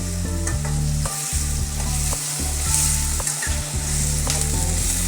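Onions and tomatoes with salt fry in a pan for squid gravy, giving a steady close sizzle broken by a few stirring scrapes and clinks of a spoon against the pan.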